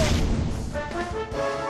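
A Kaboom explosion spell from Dragon Quest XI erupts in a boss battle as a loud, dense roar that fills the whole moment, with ringing musical tones layered through the blast.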